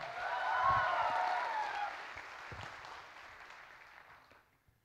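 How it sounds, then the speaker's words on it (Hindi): Applause from an audience at a sponsored community event in Bangalore, a dense wash of clapping that swells early, then gradually thins and fades away. "तालियां।"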